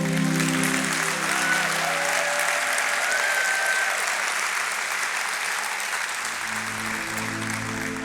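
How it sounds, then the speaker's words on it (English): Sustained applause from an audience at an event, a dense steady clapping that fills the whole stretch at an even loudness with no speech over it. "we can give them a very big applause"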